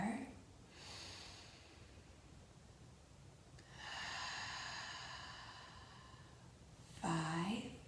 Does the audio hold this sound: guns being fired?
no